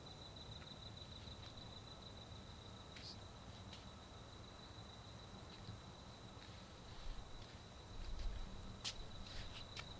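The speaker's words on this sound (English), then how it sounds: "can hear some crickets." Crickets chirp at night outdoors, a faint steady high trill running continuously over quiet background hiss, with a few soft scuffs and a slight rustle near the end.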